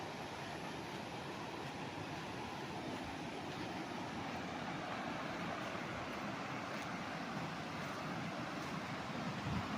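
A river flowing beside a farm property in Majayjay, Laguna: a steady, broadband rushing wash of water, moderately distant and unbroken throughout.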